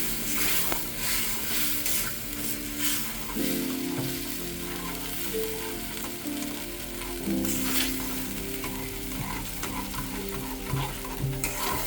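Semolina and milk stirred in a pan for sheera, with a spoon scraping steadily and continuous soft sizzling and bubbling close up throughout, no talking.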